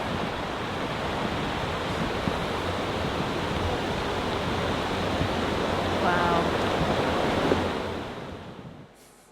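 Rushing river water from a played video clip, a steady dense broadband wash that holds loud and even throughout before fading out at the end; a river that carries heavy plastic waste.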